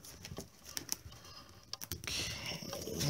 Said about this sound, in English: let's shuffle this deck up.